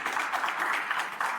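Studio audience applause for a contestant at the close of a French dating show, a steady dense patter of clapping that holds at even strength for about a second and a half with no talk over it.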